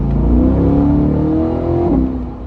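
Modded 2021 Corvette C8 V8 engine revving hard, a loud, steady close-up roar with a rising engine note that climbs through the revs over about two and a half seconds, with no voices.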